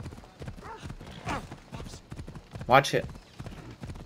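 A horse's hooves clip-clop in Assassin's Creed Odyssey, mixed with game sounds and a brief loud burst, while a player speaks over the top.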